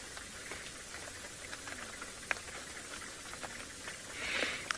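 Light rain patters steadily during a safari in Kenya's Maasai Mara, a soft continuous hiss with scattered drops and no talk.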